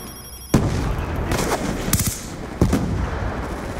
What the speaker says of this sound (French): oh le son qu'elle a la MP7 en silencieux, mon dieu, c'est moche